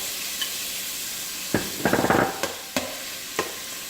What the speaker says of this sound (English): So what I like to do is I'm just going to brown my shrimp just a little bit in here.